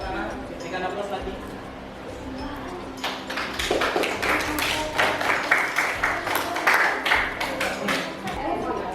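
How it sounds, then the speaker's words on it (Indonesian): An audience in a classroom applauds after a group presentation, a scattered burst of clapping that starts partway through and builds, following and mixed with a speaking voice. "Berikan aplaus lagi."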